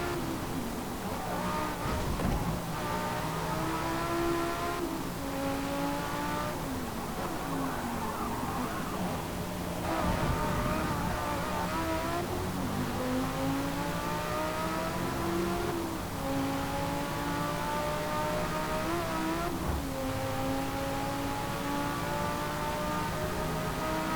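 710-horsepower race car engine in Forza Motorsport 3, a continuous droning engine note climbing and dropping repeatedly as it accelerates and shifts through gears, steady and fairly loud for the whole stretch.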